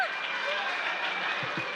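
An audience at a summit session in Miami cheers and applauds, a loud, dense wash of clapping and shouts that carries steadily through the brief moment.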